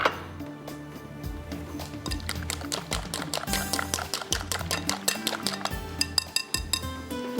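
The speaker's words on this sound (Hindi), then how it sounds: "यहाँ पर मैं अंडों को ये देख लीजिए फेंट लेती हूँ अच्छी तरह से" A whisk beats eggs with a little water in a bowl, giving a fast rhythmic clinking of metal against the bowl that continues steadily throughout, with no voices.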